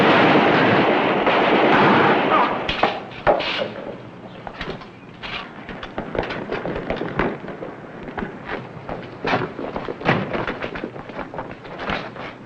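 Gunshots ring out in a Western film set in Texas, starting with a loud, sustained volley that fades into scattered, irregular cracks and echoing reports over several seconds.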